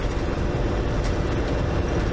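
A moving train rolls along near the Black Bull stop in low, wet-season flood country, a steady, dense rumble and rattle filling the whole stretch without a break.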